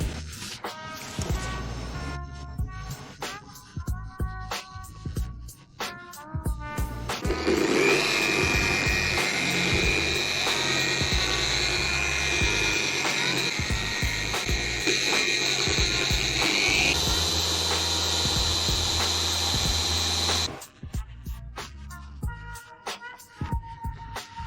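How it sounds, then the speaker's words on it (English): An electric car polishing machine whirs steadily on painted bodywork, starting slow and then speeding up into a loud, sustained high whine before stopping, with clicks and handling noise around it. "Start from low speed, polish on quickly, speed up, wipe off after the first polishing."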